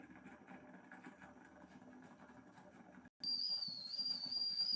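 A pressure cooker steams modak. A low bubbling hum runs for a few seconds, then a sharp break gives way to a loud, sustained, shrill whistle of escaping steam.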